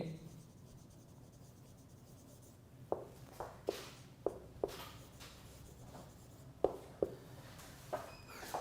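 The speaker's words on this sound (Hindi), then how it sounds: "अब ये जो डायमंड जुबली है, ये मैं लिख देता हूँ इधर आप बच्चों के लिए" A teacher writes on a classroom board with a series of sharp, irregular taps and strokes, close and fairly quiet against faint room noise.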